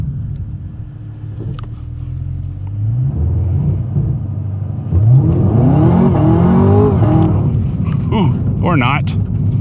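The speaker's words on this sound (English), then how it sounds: "we did get a good little burnout there" Camaro ZL1 1LE spinning its tires in a burnout on a road, engine roaring and revving hard with rising harmonic sweeps and tire whine, loud and close, with people talking over it.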